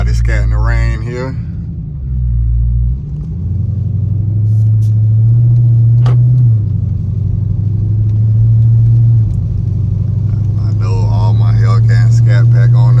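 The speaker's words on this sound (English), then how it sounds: "Let's see what it's like driving this wide body scat in the rain here." A 2020 Dodge Charger Scat Pack widebody drives in the rain, its engine a steady low rumble that swells as it accelerates, with someone talking over it at the start and end.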